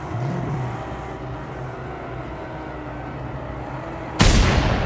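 In the video game Mad Max (2015), a low engine-like rumble hums before one sudden loud gunshot near the end, followed by a lingering burst of noise.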